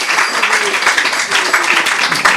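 An audience claps after a spiritual class at a home program, with a short burst of loud, dense applause mixed with some voices.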